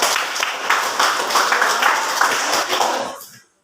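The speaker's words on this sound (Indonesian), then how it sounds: "tepuk tangan kelompok 4" A classroom group claps for group 4, a brief burst of dense, close handclapping that holds for about three seconds and then quickly dies away to silence.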